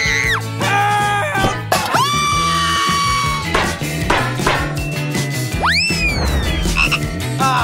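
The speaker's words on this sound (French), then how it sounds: "J'ai une vraie grenouille sous mon couvercle." A frog croaks loudly and repeatedly at close range, its croaks mixed with sharp rising squeal-like sweeps and bright jingly accents across several seconds.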